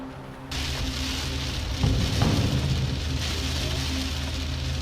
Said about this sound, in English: A storm that developed in southwestern Colorado moved northeastward, producing strong lightning, thunder, and hail.